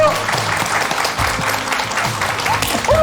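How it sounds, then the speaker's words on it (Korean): Studio audience on a Korean KBS talk show applauding to welcome a surprise guest, a dense sustained clapping that fills the room with a faint voice or tone rising briefly near the end. "여러분 박수로 모셔보겠습니다"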